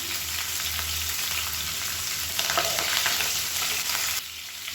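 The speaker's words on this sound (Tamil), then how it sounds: "இப்போ கருவேப்பிலை சேர்த்துக்கலாம்" Curry leaves and chopped green chillies fry in hot oil with a loud, dense, continuous sizzle heard up close. The hiss grows a little louder midway, then drops slightly near the end, and no one speaks.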